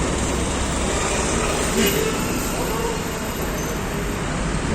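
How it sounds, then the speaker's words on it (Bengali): Steady, dense roar of highway traffic with vehicles passing continuously at close range, a broadband rush that never lets up, while someone talks over it. "এদিকে কি গাড়ি ঘোড়া চলতেছে দেখতেছো? প্রচুর গাড়ি ঘোড়া চলতেছে।"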